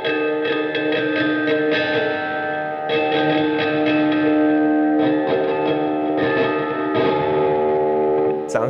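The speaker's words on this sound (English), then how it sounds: "all you've got to do is literally just pick scrape the springs at the back" Guitar tremolo springs scraped with a pick, with reverb and delay on: metallic scraping rings out through heavy reverb and echo, eerie sustained tones swelling in several overlapping bursts.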